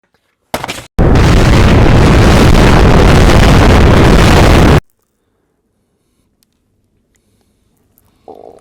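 A loud explosion sound effect: a short sharp burst, then a massive roaring blast that holds for nearly four seconds before cutting off abruptly into near silence, with a faint noise returning at the very end.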